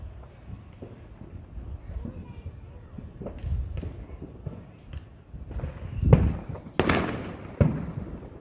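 Fourth of July fireworks pop and boom outdoors, with scattered near and distant bangs, a whistling streak and crackles over a steady background rumble.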